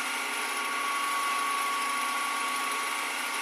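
An acrylic workpiece spinning on a lathe at about 1100 to 1500 rpm, giving a steady, even high whine and hiss that holds constant throughout, with no talking.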